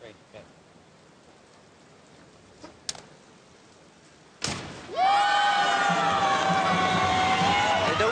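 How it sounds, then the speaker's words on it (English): Coaches at a 10m synchro diving event at the Beijing World Series break into loud, sustained applause and cheering in a large echoing venue, starting abruptly after a quieter stretch with a few thumps. "Real applause from their coaches."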